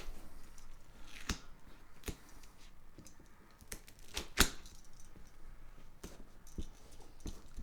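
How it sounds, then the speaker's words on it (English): Scissors snip through material every couple of inches as it is folded down to form a rounded corner, giving sparse, close, crisp clicks and cuts with a soft rustle between them. "we're doing is cutting about every 2 inches or so and folding down"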